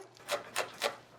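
A red chili pepper, scored with a cross, being finely minced with a kitchen knife: three soft, evenly spaced blade strokes on a cutting board, close and fairly quiet, alone.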